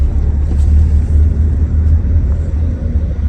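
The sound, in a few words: many cars in night traffic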